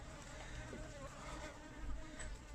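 Bees buzz inside a car driving away from an apiary, a continuous faint droning hum mixed with road and cabin noise.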